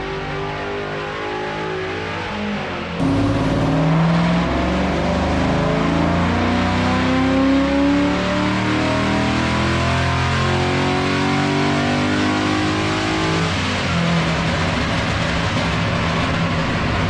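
A tuned VE/VF Commodore V8 exhaust roars loud and close as the engine revs hard, a thick, rising and falling rumble with rough edges and sharp pops through the pulls.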